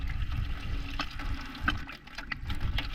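Water from a borehole runs out through a drip irrigation line into a bucket, a steady close splashing flow with no talking.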